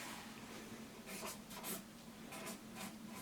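Pen writing on paper, a steady scratchy scrawl with short bursts of strokes over about three seconds, close and fairly quiet, with no voice over it.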